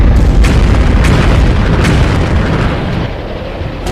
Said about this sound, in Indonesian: Melintasi kapal kita sambil menembakkan peluru suaranya.